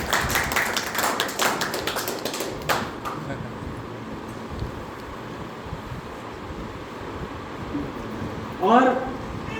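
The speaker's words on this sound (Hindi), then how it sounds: "जो ताली नहीं बजाएंगे मुझे उनके दिल होने में संदेह हो जाएगा।" An audience claps at a Hindi poetry recital. The applause is a dense burst in the first few seconds, then it thins out and gives way to quieter room noise and voices.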